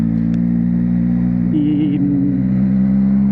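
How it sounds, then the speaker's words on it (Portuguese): Steady engine drone of a Yamaha MT-09 motorcycle heard from inside a helmet while riding, mixed with constant wind rush and a brief rise in engine pitch partway through. "sinto muito vento, muito ruído exterior aqui. Ouço muito mais a moto do que nos outros."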